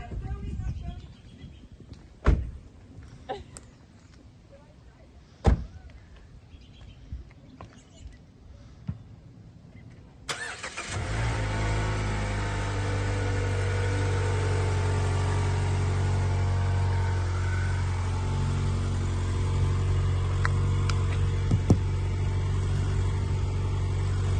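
A car engine starts after some thumps and rustling, then runs with a steady, loud hum as the vehicle drives around the block. Voices speak faintly in the background.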